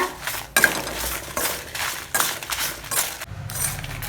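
Red chillies and curry leaves are dry roasted in a pan, with bursts of rattling and scraping as the ingredients are stirred and tossed, close and fairly loud, in several distinct waves.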